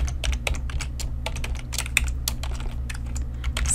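Quick, uneven clicking of keys on a computer keyboard, close and clear, with dense bursts of keystrokes throughout and no talking.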